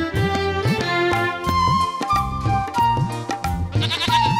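A goat bleats again and again in a run of sharp, wavering, nasal calls, loud and close, with short gaps between them and a faint murmur of background talk.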